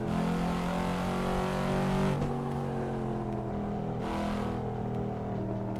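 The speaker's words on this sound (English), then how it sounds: "I'm thinking about buying the Cadillac CT5, the same one that I'm driving here." A Cadillac CT5 engine in a driving simulator game holds a steady, loud, close drone with layered harmonics, briefly easing and shifting around midway before carrying on.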